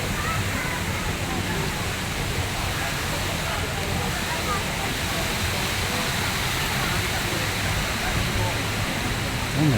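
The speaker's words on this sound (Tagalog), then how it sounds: "May waterfalls." A waterfall at Dusit Central Park in Bangkok pours with a steady, broad rushing hiss that stays even in level throughout, with people talking nearby over it.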